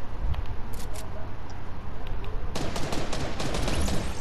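Sniper gunfire in the Fortnite video game: sharp shots crack out at irregular intervals, a few early and then a denser flurry of reports later, with no voices over them.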